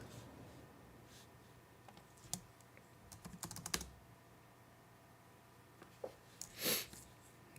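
Keys tapped on a computer keyboard to enter a search, arriving as sparse, quiet clicks and short bursts over a faint steady background hum.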